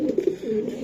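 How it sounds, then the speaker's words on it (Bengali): A young male Indian racing pigeon coos close by, a series of low throaty pulses merging into a rolling call in quiet surroundings. "ইয়াং কবুতর এটা"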